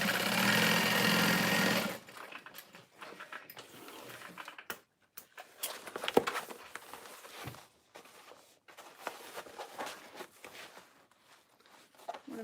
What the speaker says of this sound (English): Sewing that bottom panel.